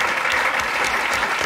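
Studio audience applause on a 1991 Belgian television dictionary quiz show, a steady, dense clapping that fills the room without pause and with no voices over it.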